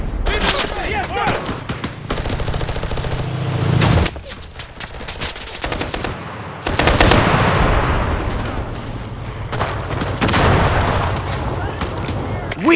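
Squad rifle and machine-gun fire in Enlisted during a Normandy defense battle at Gare de Saint-Lo: loud, dense bursts of shots crackle close by with heavy booms and explosions, in overlapping rapid volleys throughout.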